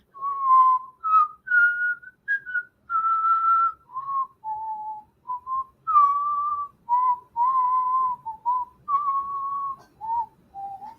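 A person whistles the slow, clear melody of Greensleeves alone, note after note with short breaths between phrases.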